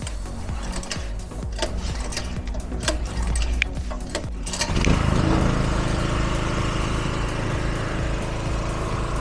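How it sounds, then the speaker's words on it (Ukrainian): A gas-powered portable generator engine starts and settles into a steady, buzzing drone, a small single-cylinder engine running close and loud at a constant pitch, with some mechanical clicking before it catches, no talk. "Ось так генератор працює від газу."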